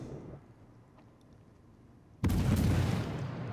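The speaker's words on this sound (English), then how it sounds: "Get some shots off, just for the sake of getting them off" A sudden heavy blast of naval gunfire from the T-22 in World of Warships cuts in after near silence, followed by a loud sustained rumble and roar that fades slowly.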